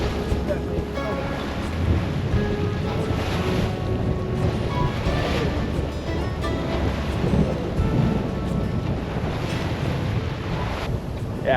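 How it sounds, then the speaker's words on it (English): A motorized boat approaches across open ocean water near Anacapa Island, its engine drone buried in steady wind buffeting and wave wash heard from aboard a moving sailboat. "it's definitely a motorized boat. It's coming a lot closer"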